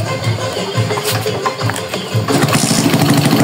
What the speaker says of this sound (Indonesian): sekarang coba kita nyalakan motornya mas